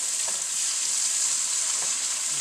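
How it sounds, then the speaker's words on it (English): Bacon and onions fry in a pan with a steady, close sizzle and soft crackle throughout. "So when that starts to crisp up, I'm going to go ahead and add these onions."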